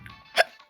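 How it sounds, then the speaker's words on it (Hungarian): A single sharp hiccup from a person, a brief close-up gulp standing out against a quiet background. "bocsánat, csak csuklok."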